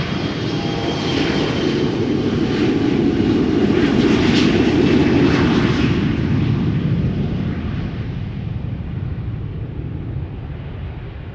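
KLM Embraer 175 jet airliner at Schiphol Airport, a loud, steady roar of jet engines rising to a peak around the middle and slowly fading as it moves away, with no voices.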